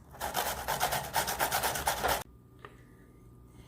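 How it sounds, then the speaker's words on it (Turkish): Cucumbers grated with their peel on against a hand grater for a strained yogurt salad, giving fast rhythmic rasping strokes for about two seconds, close and loud, then a sudden stop into near silence. "Daha sonra rendeliyoruz. Kabuklarıyla rendeliyoruz."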